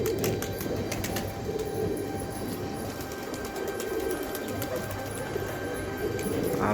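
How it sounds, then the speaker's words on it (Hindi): Pigeons being let loose from a loft, steady low cooing with scattered wing flutters, set against constant noise of a passing train and a faint hum. "कबूतर खोल दिया मैंने।"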